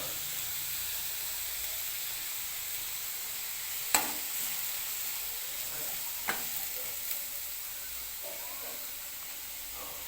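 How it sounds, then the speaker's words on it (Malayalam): Squid roast sautés in a pan with a soft, continuous sizzle and hiss, interrupted by two or three light utensil taps, all fairly quiet and close. "ഇത് നമുക്ക് നല്ല രീതിയിൽ വയറ്റിയെടുക്കാം"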